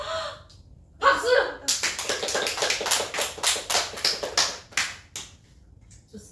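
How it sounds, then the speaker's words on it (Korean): A small group claps during a K-pop girl group's online countdown party for Weeekly's fourth mini album, bursts of sharp hand claps in quick uneven rhythm, close and fairly loud, with short pauses between rounds. "박수!"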